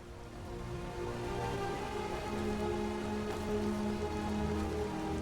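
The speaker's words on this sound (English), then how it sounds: "And it's raining, because of course it is." Rain falls in a small town in the video game Skyrim, a steady, fairly faint patter and hiss with no voices over it.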